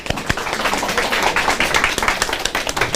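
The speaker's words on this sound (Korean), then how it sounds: "큰 박수 부탁드립니다." A small audience at a neighbourhood redevelopment briefing claps, a close, loud, uneven patter of individual hand claps with sharp separate hits throughout, no speech.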